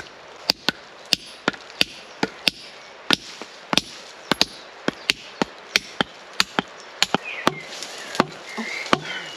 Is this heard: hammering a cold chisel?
yes